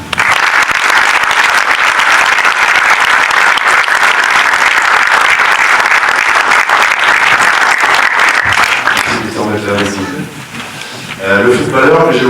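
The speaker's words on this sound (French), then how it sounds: "je vous demande de l'applaudir" A crowd at a public event in Terrasson applauds rugby player Christian Califano: loud, dense, sustained clapping filling most of the clip, tapering near the end as a voice comes in over it.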